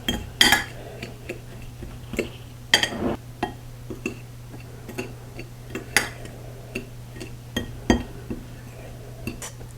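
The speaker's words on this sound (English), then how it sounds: "So to this bowl I'm going to add 1/2 cup of almond flour, 1/2 cup of the stevia, and just using a fork I'm going to mix that together." A fork mixes almond flour and stevia in a bowl, making a series of sharp clinks and taps against the dish at an uneven rhythm over a low steady hum.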